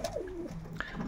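A pigeon coos nearby in a pigeon loft, a soft rolling call that dips and rises, with a second brief coo following; quiet and close.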